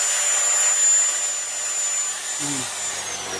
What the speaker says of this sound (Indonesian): Cukup sekitar 3 kali sentuhan mata gerinda ya.